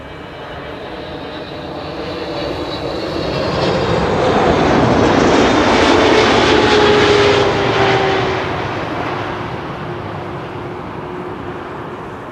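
A KLM airliner, flight 682, arriving at Schiphol's Kaagbaan runway 06: broad jet roar swelling as it passes overhead at its loudest midway, with a descending whine, then fading away.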